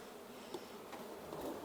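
A large honey bee swarm buzzes faintly inside a hive box full of honey, a brief, low, continuous hum.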